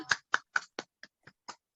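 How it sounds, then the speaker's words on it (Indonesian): Seven sharp, evenly spaced hand claps ring out in quick rhythm, slightly fading toward the end, with silence between them, as a group claps together at a scout outreach event. "Kita tepuk tangan dulu semuanya"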